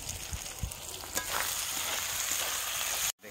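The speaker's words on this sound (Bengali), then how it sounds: "মশলা কষা প্রায় হয়েই গেছে।" Spice paste mixed with yogurt sizzles and fries in a pan as it is stir-cooked for meat curry, a steady close hiss punctuated by a few scraping stirs before cutting off abruptly.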